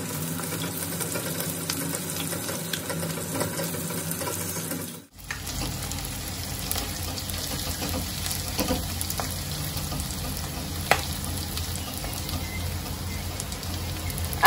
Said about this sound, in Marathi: कांद्याला थोडा नरम होईपर्यंत मी चांगला परतून।